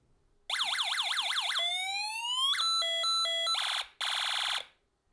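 A Snap Circuits coding kit runs through its alarm sounds in sequence: a fast warbling siren, a long sliding sweep, a two-tone beeping pattern, then two buzzy bursts, all loud, electronic and close, with no talking.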